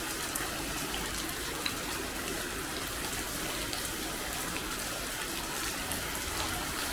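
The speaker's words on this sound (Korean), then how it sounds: "오늘 비가 장난 아니게 옵니다. 완전히 엄청 쏟아지고 있습니다." Heavy rain pours down steadily in a parking lot in Olsztyn, Poland, a dense, even hiss of drops drumming on surfaces with no letup and no voices.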